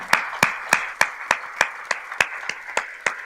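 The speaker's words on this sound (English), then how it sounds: "I invite you all to stand and join hands in applause" Clapping at an awards ceremony: about a dozen sharp, evenly spaced claps in a steady rhythm, close and fairly loud over a soft background murmur.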